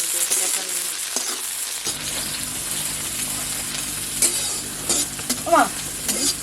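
Chopped tomato frying in a pan with onion, a steady close sizzle with occasional stirring scrapes and a few louder spatters near the end.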